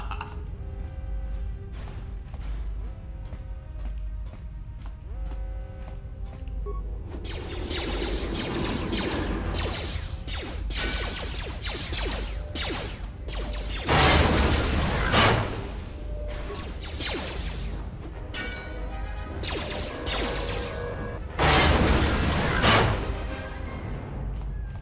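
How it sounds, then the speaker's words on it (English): Explosions in the Star Wars: Knights of the Old Republic 2 video game, heavy booming blasts that swell twice over a dense, continuous bed of game music and rumbling noise, with no talk. "I'm hearing explosions go off."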